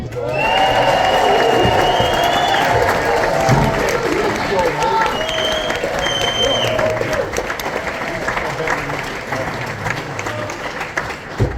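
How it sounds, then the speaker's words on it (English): A comedy show audience claps continuously, with cheering and scattered voices mixed into the applause throughout. "1, 2, 3, start the clapping."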